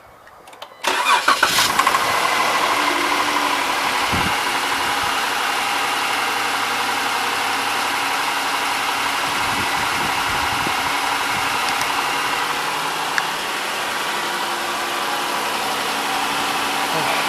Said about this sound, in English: Okay, getting ready to fire it up.